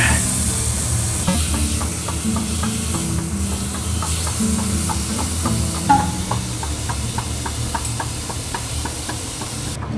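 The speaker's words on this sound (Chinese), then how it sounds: "开煎吧" Marbled wagyu beef pan-fries in Okinawa with a loud, continuous hiss of sizzling fat, dotted with rapid, regular little pops and spits throughout.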